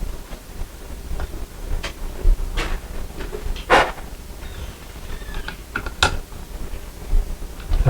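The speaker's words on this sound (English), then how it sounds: "And then we screw these screws down until they're tight." Screws being driven down tight into a light fixture mounting bracket during fixture replacement, heard as scattered clicking and ratcheting ticks with a few sharper metallic snaps, close and moderately loud.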